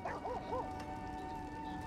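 Short yelping dog barks from Diablo 4, a few quick bright yips in the first second over a steady game music drone, with a softer whimper-like tail.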